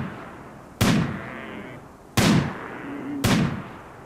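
Three gunshots in RimWorld, sharp booming cracks with brief echoing decays, the first alone and the last two closer together, over a quiet ambient bed.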